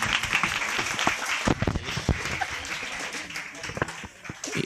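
Applause at a school report card and ranking award ceremony: a crowd of students and parents clapping steadily in a room for several seconds, with voices talking underneath.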